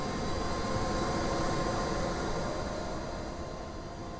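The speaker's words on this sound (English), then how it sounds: "As the engines spool up" Twin turbine engines of a UH-60 Black Hawk spool up in DCS World, a loud, steady jet whine with high tonal tones over a broad rushing roar that eases slightly toward the end.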